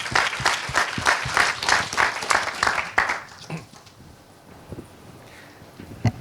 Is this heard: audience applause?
yes